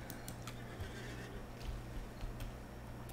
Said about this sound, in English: And I just got on my horse form to go away.